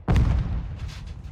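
A deep, booming explosion in the video game Call of Duty DMZ, a single loud blast with a heavy low-end thump that rumbles and fades over about a second.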